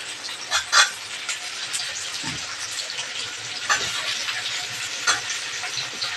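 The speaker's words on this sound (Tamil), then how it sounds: "இப்போ உள்ள வெங்காயம் வதங்கி வச்சு நான் பூண்டு போட்டுக்கிறேன்" Garlic fries with sautéed onions in a pan, giving a low, steady sizzle with scattered scraping stirs and a few louder clatters. No one speaks.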